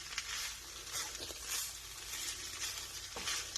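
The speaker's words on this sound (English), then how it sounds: "we're going to let it saute for about 3 to 4 more minutes" A vegetarian bean nacho mixture sautéing in a pan, a continuous bright sizzle with soft stirring scrapes rising and falling, close up and with no one speaking.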